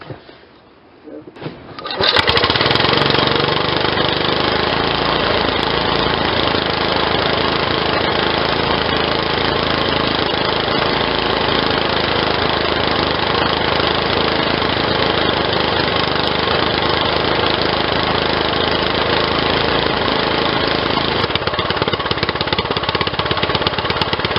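A GM LS2 V8 engine cranks and catches, then settles into a loud, steady running drone close by for the rest of the clip.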